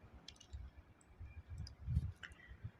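Computer mouse clicks while working in CorelDraw, a few soft, light clicks spread across a quiet background.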